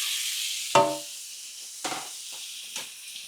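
Food sizzles steadily in a hot pan, with a loud hiss and a few sharper crackles and spits over a few seconds.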